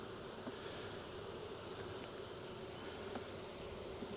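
Honeybees buzz at the hive in a steady, dense drone that holds throughout, with a few faint ticks over the continuous hum and no voices.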